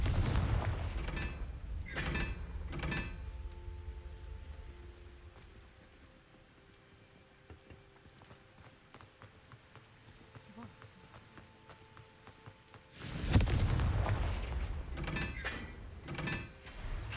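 A Confringo blasting spell cast in Hogwarts Legacy, with sharp bursts early on and another burst-heavy stretch later, loud against the game's ambient backdrop.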